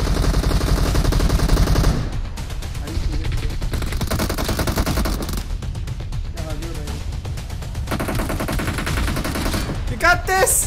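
MG3 machine gun fire in a battle royale video game: sustained, loud automatic bursts that run almost continuously, with a few short breaks, while a voice talks over parts of it.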